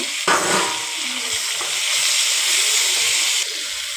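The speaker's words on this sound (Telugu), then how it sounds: "ఇప్పుడు మనం ముందుగా కోసి పెట్టుకున్న టమాటో వేసేస్తున్నాను." Chopped tomatoes drop into a pan of frying onions and chillies, setting off a loud, steady sizzle with stirring scrapes that carries on unbroken, with no talking.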